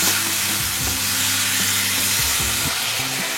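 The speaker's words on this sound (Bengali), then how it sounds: "মশলাটা কিন্তু ভালো করে কষিয়ে নেব।" Spice paste and potato pieces stir-fried together in a pan for a Bengali okra-and-potato curry, a steady close sizzle with scraping and stirring strokes throughout, no talk.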